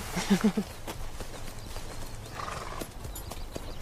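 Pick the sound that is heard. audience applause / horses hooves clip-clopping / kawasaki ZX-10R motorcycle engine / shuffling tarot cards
horses hooves clip-clopping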